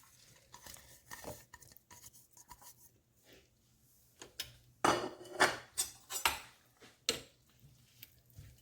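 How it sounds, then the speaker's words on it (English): Spoon stirring mushrooms through a pot of homemade vegetarian tomato spaghetti sauce made with garden vegetables: scattered soft scrapes and a few louder clinks against the pot, uneven and close, with no talking. "Give it another stir."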